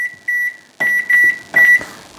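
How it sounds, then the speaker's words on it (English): Kitchen timer beeping as it is set for nine minutes while garlic shrimp and vegetable spaghetti cooks: a short electronic beep, a pause, then two quick runs of beeps and a longer final tone, close and clear with no talk. "Set the timer."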